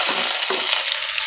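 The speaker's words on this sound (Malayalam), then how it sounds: "ഇത് നമുക്കൊന്ന് വഴറ്റിയെടുക്കാം." Ginger, green chili, curry leaves, garlic and onions sauté in hot oil with a steady, close hiss, and a couple of stirring scrapes come through near the start. No one speaks.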